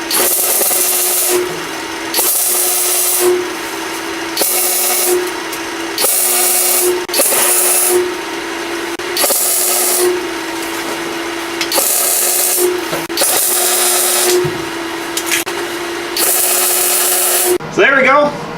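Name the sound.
welding torch tack welding floor pieces on car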